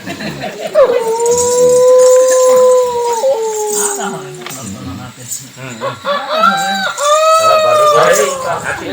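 Long, wavering howls rise and hold in a noisy outdoor scene, followed later by a cluster of higher overlapping cries.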